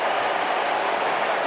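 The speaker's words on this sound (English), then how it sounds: "It's a decent crowd in Saturday night footy at ANZ Stadium" Stadium crowd applauding at a Saturday night AFL football match at ANZ Stadium, a brief steady wash of clapping and crowd noise, loud and continuous.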